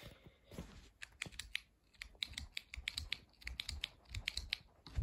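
The switch on an F8T5 lamp, a small 8-watt Philips tube that is hard to start, is flicked rapidly on and off, making a quiet, close run of irregular sharp clicks.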